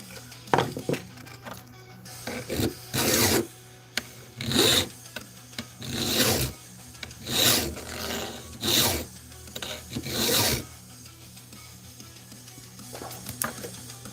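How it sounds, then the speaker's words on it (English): Dremel rotary tool grinding at a key on a workbench, coming in repeated short rasping bursts of a second or so, separated by brief pauses, fairly close and steady. "With the Dremel."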